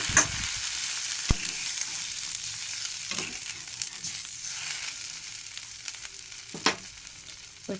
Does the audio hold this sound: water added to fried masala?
yes